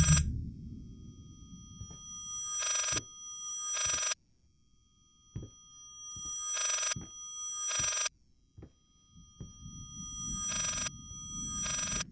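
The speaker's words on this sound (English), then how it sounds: "Right, it's not letting me answer the phone." An old-style telephone in the Layers of Fear VR game rings in loud double bursts, the pairs repeating at a steady rhythm through a quiet room with low background rumble and a few soft thumps between rings.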